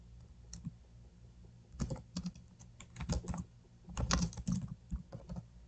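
Fingers tap out a name on a computer keyboard in irregular bursts of quick clicks, close and clear, with no voices.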